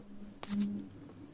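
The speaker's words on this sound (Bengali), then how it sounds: "একটানা ঝিঝি ঢেকে চলেছে" Faint, continuous high-pitched cricket chirping in a quiet night setting, broken briefly by a soft low thud midway.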